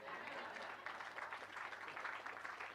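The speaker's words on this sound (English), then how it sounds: "You can clap." A crowd at the topping-off ceremony for Norton West Hospital in West Louisville gives faint, distant applause, a soft steady wash of clapping.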